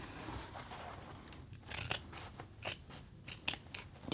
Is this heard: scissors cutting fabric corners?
yes